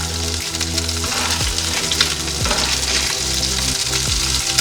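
Fish sizzles in hot oil in a pan, a loud, constant crackling hiss over a low steady hum, with brief soft scrapes as it is turned.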